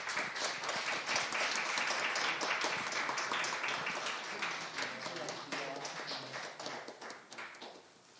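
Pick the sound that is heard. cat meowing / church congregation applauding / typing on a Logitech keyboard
church congregation applauding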